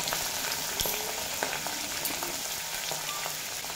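Cut, washed potatoes hit hot oil with tempering spices in a pan, giving a continuous dense sizzle and crackle with scattered pops and occasional stirring scrapes, close and steady with no talking.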